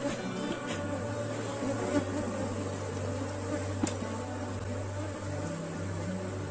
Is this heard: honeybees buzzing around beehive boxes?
yes